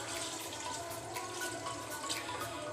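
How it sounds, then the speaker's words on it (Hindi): Water poured into a cooking pot of browned meat and beetroot, a steady soft liquid splash and gurgle running continuously, fairly quiet and close, with no talk. "3 कप मैं इसमें पानी डाल रही हूँ"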